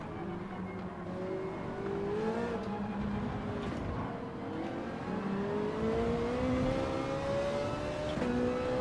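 A race car engine in Gran Turismo 7 at Fuji pulls hard under acceleration with a rising, steady whine through the gears, with one shift near the end and no talk.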